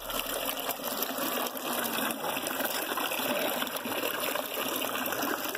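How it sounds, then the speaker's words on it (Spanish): Water flows continuously from a healing well at a temple in Korea, a steady rushing and trickling gush at moderate volume with no voices over it. "Escuchen el sonidito del agua."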